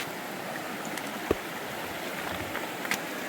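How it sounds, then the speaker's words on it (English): Creek water flows at the Rattlesnake Creek crossing in a wilderness area, a steady broad rushing wash, close and even, with a couple of faint knocks and no talk. "I'm at the Rattlesnake Creek crossing"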